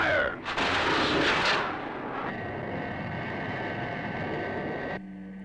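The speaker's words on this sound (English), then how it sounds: "Trigger interceptor missiles for second attack" Interceptor missiles launch in a Thunderbirds puppet action show, a loud roaring blast burst opening the scene, then a sustained rushing, hissing thrust with a steady whine that cuts off abruptly near the end.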